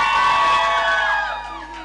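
A live show audience screams and cheers in a dense, sustained roar of high voices and whoops that eases slightly toward the end.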